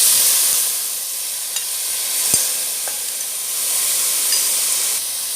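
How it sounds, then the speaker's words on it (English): Chopped tomatoes sautéing in a pan for South Indian upma give a steady, close hiss of sizzling, with a few faint clicks of stirring and no voices. "and then now saute it well"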